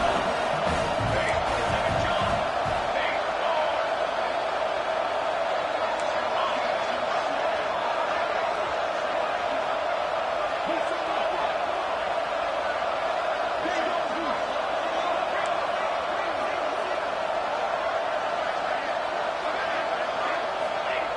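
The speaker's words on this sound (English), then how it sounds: "they'll have to conquer this crowd noise" Football stadium crowd roaring continuously during a tense college football two-point conversion attempt, a dense steady wash of cheering and shouting with a commentator talking over it.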